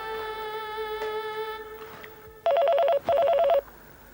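A steady electronic tone with a low hum, then two loud telephone ring bursts in quick succession, close and clear, with no talking.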